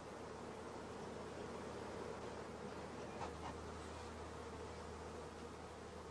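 Honey bees on brood frames, a dense continuous buzzing hum that stays steady and close throughout, with no voices.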